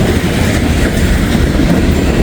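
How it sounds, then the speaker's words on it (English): A mixed manifest freight train rolls steadily past close by, a loud continuous rumble of wheels and cars with faint clickety-clack, no voices. "Nice little mixed manifest here."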